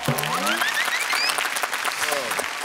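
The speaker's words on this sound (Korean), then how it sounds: "여러분 박수 부탁드리겠습니다" Studio audience applauding on a Korean television competition show, a steady wash of clapping throughout, with a brief tonal musical sting near the start and a short vocal or musical flourish near the end.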